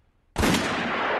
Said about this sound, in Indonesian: Tuko menembaknya duluan dari dalam bak mandi.